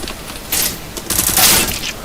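Gunfire in the video game CS:GO on the Dust2 map comes as two loud bursts of rapid automatic shots, the second longer and denser, close and dominant with no talk over them.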